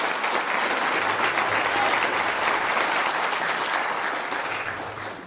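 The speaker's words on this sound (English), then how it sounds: "Let's give them a round of applause" Dense crowd applause for Navy sailors at a Marine Corps birthday ball ceremony, steady and full before gradually thinning toward the end.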